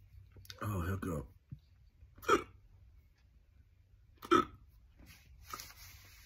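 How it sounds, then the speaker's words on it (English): Hiccups from a man, three short, sharp, isolated spasms spaced a couple of seconds apart in a quiet room, following a brief bit of his speech. "Oh, hiccup."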